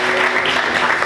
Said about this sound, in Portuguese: Você pode aplaudir Jesus com alegria?